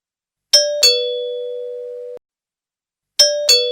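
Two-tone electronic doorbell chimes at a home's front door, a ding-dong pair with a long sustained second tone, then a second ding-dong ring a moment later, clear and close with no talking.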